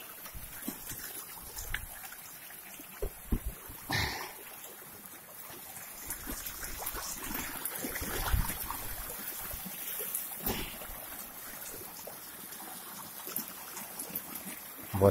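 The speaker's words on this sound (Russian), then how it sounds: "у нас опять прорыв дамбы" Water from a breached dam rushes past in a continuous, roaring torrent close by, with uneven surges and splashes over the whole stretch.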